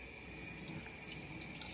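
A kitchen tap runs steadily into a sink while konoshiro fish from Lake Hamana are rinsed under fresh water, a constant soft hiss and splash with no talking.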